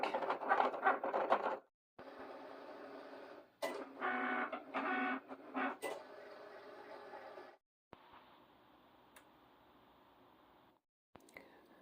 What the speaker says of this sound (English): Now let's go. And Cricut works its magic.